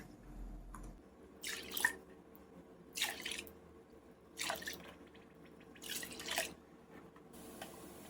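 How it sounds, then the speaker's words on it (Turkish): Milk is poured glass by glass into a pot of sugar for cold baklava syrup: about five short, splashy pours at close range, separated by quiet pauses. "Aynı klasik su bardağıyla üzerine 5 su bardağı süt ilave ediyorum."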